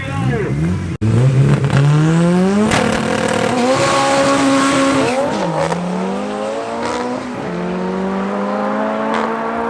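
Toyota Corolla and Mark 5 Supra drag racing side by side at Midvaal Raceway, engines screaming loud and near through rising gear shifts, with a sharp break early and a commentator talking over the roar.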